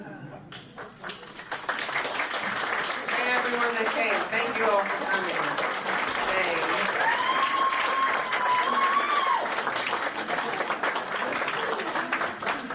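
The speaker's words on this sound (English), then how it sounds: "Please stand up and give yourselves a big round of applause" Audience applause fills a disability town hall hall, sustained crowd clapping through most of the span while a person keeps speaking over it and a voice thanks those present.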